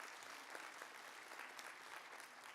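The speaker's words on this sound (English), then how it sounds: "let's give her a round of applause" An audience at a fall college commencement ceremony applauds a graduation chair, a steady wash of many hands clapping at moderate distance, sustained evenly throughout without pauses.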